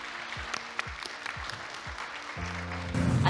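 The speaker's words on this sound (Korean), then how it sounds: "토마스 헤더윅님을 뜨거운 박수로 환영해" An audience welcomes designer Thomas Heatherwick at a signing ceremony for Yeouido Daegyo Apartments: a short, moderate burst of clapping that swells near the end, mixed with a few other tones.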